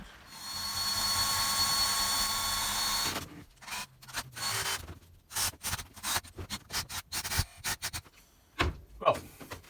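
A power drill whines steadily for a few seconds, then bursts of stop-start drilling and grinding through a wooden joist follow, close and loud.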